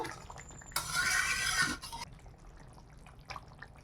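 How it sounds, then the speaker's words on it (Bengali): A cup of hot water pours into a pan of simmering chicken curry in one short, close splashing rush lasting about a second. Faint kitchen noise follows. "এবার আমি গরম জল দেব, 1 কাপ গরম জল দিয়ে দিলাম।"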